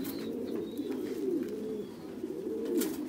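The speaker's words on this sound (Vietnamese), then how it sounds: "đây là chim bồ câu Titan Thái siêu thịt" Thai Titan meat pigeon cooing in steady, throaty rolling coos that swell and fade continuously, close and fairly loud with no talk.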